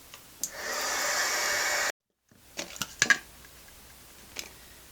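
A heat dryer blows steadily on freshly stencilled paint on a fall tag for about two seconds, then cuts off, followed by a few nearby clicks and light handling taps.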